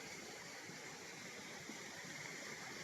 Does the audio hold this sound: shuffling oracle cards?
no